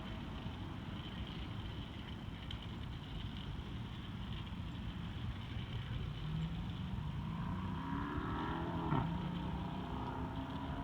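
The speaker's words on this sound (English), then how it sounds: "Checking in with the car that just drove by." A motor vehicle passes by steadily over constant low rumbling background noise, its engine tone rising and sweeping near the end.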